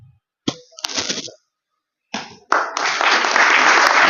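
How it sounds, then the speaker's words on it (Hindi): Enthusiastic applause from a crowd of teachers at a Constitution Day event in Delhi, starting in short bursts of clapping and then swelling into sustained, loud, dense applause that continues to the end. "एक बार जोरदार तालियां।"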